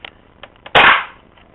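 A dart fired from a homemade angel breech dart gun strikes a Wii box indoors with one loud, sharp smack that rings out briefly, preceded by a few faint clicks.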